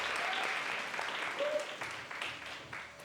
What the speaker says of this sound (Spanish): un maravilloso público en vivo que nos está aplaudiendo bastante